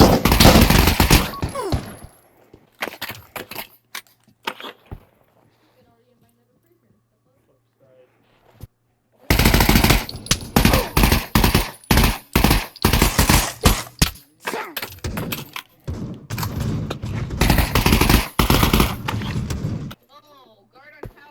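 Video game gunfire from a guard sniping on a tower during a prison guard game, heard as dense bursts of shots: a cluster at the start, a quiet gap, then sustained rapid fire for about ten seconds, with voices talking between.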